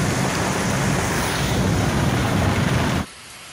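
Heavy rain pours during a thunderstorm as water floods the streets, a loud, dense, steady roar that fills the scene, then drops off abruptly near the end.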